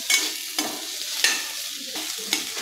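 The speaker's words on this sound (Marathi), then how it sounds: "आता हे सर्व मिक्स करून बटाटा व्यवस्थित परतून घ्यायचा आहे." Potatoes with chopped coriander and salt are stirred and sautéed in a pan, a steady close sizzle broken by four or five scraping strokes of the spoon at regular intervals.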